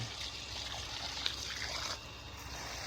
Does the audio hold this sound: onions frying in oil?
no